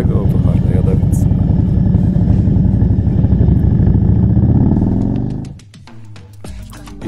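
A 2006 Harley-Davidson Electra Glide engine rumbles loud and close in a steady, deep throb for about five seconds, then cuts off, leaving quieter clicks and handling noises.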